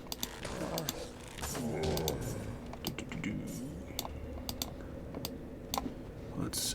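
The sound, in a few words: computer mouse clicking next to the microphone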